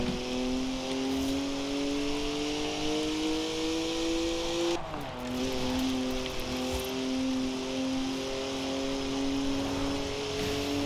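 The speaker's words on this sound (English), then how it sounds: "3 liter straight six, 335 horsepower, two turbos, and as much sideways action as you like." A BMW 3-liter twin-turbocharged straight-six in Forza Horizon drones steadily at high revs, with a brief dip around a gearshift before the engine note climbs back to a sustained, loud whine.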